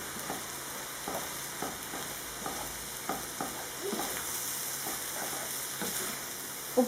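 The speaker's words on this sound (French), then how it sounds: "Donc je mélange le tout." A stuffed msemen filling sizzles in a hot pan while being stirred, with soft repeated scrapes and clicks of the utensil over a steady frying hiss, heard up close; no talking.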